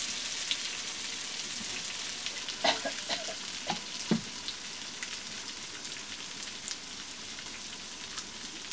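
Water poured into a hot pan of mustard oil in a rural home kitchen gives a steady broad sizzle, with a few sharper clinks and bursts near the start and a constant crackling hiss throughout, no voices.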